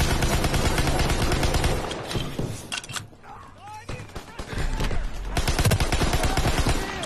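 Gunfire in Call of Duty WWII multiplayer, dense rapid shots and bursts up close, easing briefly mid-clip before loud firing resumes, with a voice talking over parts of it.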